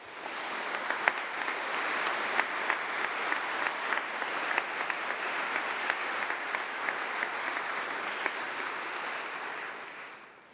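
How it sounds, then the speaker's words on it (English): A large crowd claps steadily in a university great hall during a winter graduation congregation. The applause is even and sustained for about ten seconds, then fades out at the end. "So let's give them a round of applause."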